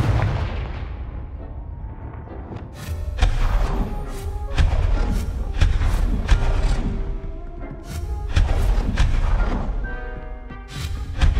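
Repeated Confringo fire spells blasting in Hogwarts Legacy, heavy booming impacts with cracking tails landing one after another over a rumbling game backdrop.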